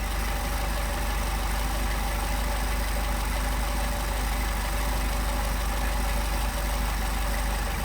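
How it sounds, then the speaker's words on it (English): A Mercedes 190SL engine with Solex 44PHH carburetors idles steadily, a loud, dense, unbroken rumble held at a constant level throughout. "Now we're going to come back out to where we get our best idle."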